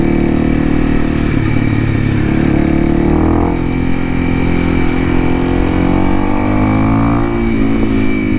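A Honda CRF 300L motorcycle with a 550Performance ECU tune is ridden, its engine droning loud and close throughout. The pitch swells as it accelerates, with no talking.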